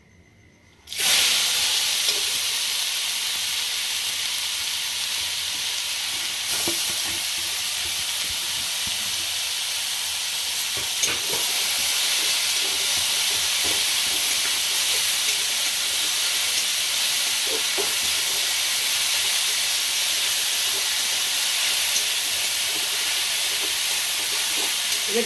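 Grated carrots frying in ghee for carrot halwa, a loud, steady hiss and sizzle that starts abruptly and continues unbroken, with faint scraping stirs underneath.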